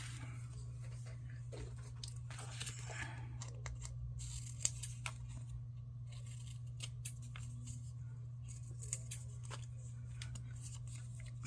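Small scissors make a series of quick, rough snips and paper rustles, close and fairly quiet over a steady low hum, with no talking.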